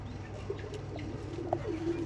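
Old line pigeons coo softly in short, low, rounded notes with a few faint chirps, close by and fairly quiet against a steady background.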